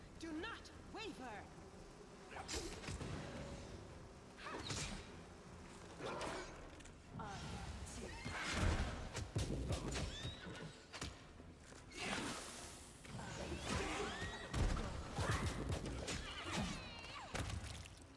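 A horse neighs and whinnies in the video game Pathfinder: Wrath of the Righteous, with hoof sounds and game effects, while a voice talks over it throughout.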